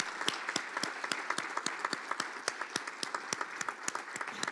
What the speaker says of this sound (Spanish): con un aplauso fuerte de este auditorio